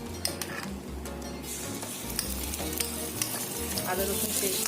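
Ginger-garlic paste hits a hot pan with garam masala, cloves, cardamom and cinnamon for lemon chicken, producing a steady, fairly soft sizzle with faint stirring underneath throughout.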